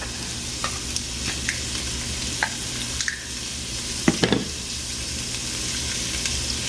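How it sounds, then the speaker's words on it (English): Chopped onion and garlic sautéing over high heat for beef stroganoff, a dense continuous sizzle with scattered spoon taps and a short clatter of stirring midway. "So we're going to saute that until it comes to a golden brown"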